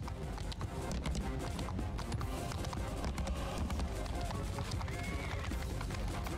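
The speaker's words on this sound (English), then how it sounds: "they do need to fix like the sound for the horses. Like it's at a certain point here, it sounds like I'm running over wood" Horse hooves galloping in the video game Mount and Blade Bannerlord, a fast, continuous clatter of many hoofbeats with a hollow, wooden tone, loud and dense throughout, with someone talking over it.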